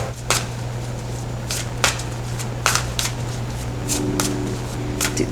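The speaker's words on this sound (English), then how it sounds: "It's hard to shuffle them like this." Tarot cards being shuffled by hand, a series of crisp riffling bursts at irregular intervals over a steady low room hum.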